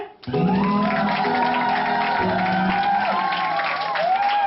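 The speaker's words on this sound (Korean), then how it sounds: "하객분들께서는 행복하게 잘 살라는 의미로 다시 한번 그 힘찬 박수와 환호성으로 맞이해주시면 감사하겠습니다" Wedding guests in a small theatre clap and cheer vigorously as the couple begins their march. The applause swells quickly and holds steady, with music sounding over the crowd.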